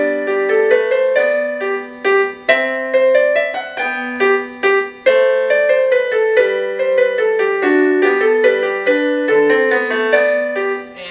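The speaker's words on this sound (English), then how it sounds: "we're working on a minuet in G by Bach" Solo piano plays Bach's Minuet in G, a light, stately minuet in triple time, a clear melody over a simple bass line, notes crisp and evenly paced.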